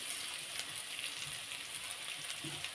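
Potatoes and drumstick pieces fry in hot oil for a Bengali fish curry, giving a steady, close broadband sizzle that stays even throughout, with a small clatter at the very end.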